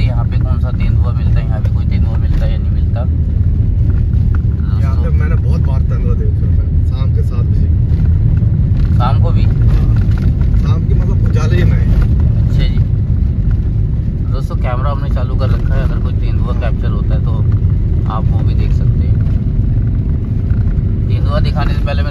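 Car driving along a forest road in a leopard area, a steady low engine and road rumble running throughout, with people talking over it.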